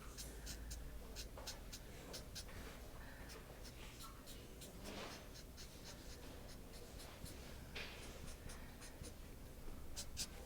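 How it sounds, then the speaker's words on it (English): A pen draws short lines on a Halloween spider's web costume, a faint, quick scratching stroke repeated over and over against soft background noise. "And then you're just going to start drawing little lines."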